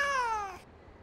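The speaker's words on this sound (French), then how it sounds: "un chat sur une fine branche la regarde de ses yeux ronds" A single clear meow comes from a cat stuck on a thin branch high in a tree. The call slides downward and fades within about half a second.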